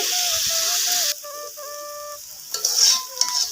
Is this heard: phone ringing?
no